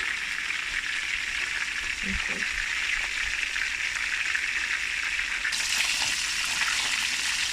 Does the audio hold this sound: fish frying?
yes